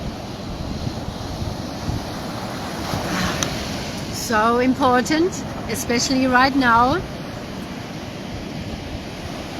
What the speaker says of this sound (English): The waves are coming up very high